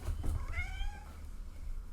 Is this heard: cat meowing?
yes